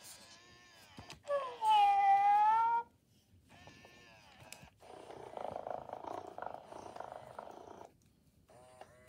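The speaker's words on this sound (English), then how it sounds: "so it purrs and wags its tail and turns its head towards the side that you're stroking" A Moose Toys Little Live Cuddles robotic toy kitten gives a loud, drawn-out electronic mew, followed by a soft, buzzy purr that runs on steadily for several seconds.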